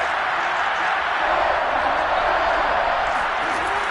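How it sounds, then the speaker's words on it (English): Stadium crowd in the Madden 22 football video game, a dense, steady roar of cheering building toward a big third down, loud and continuous with no distinct claps or pauses. "the crowd getting into it as we come up on a big 3rd down"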